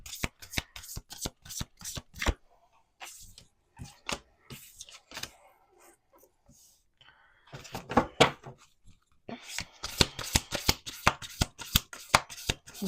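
Urban Crow Oracle cards are shuffled by hand in quick bursts of rapid riffling flicks, pausing briefly in the middle before a second energetic round of close, crisp card slaps.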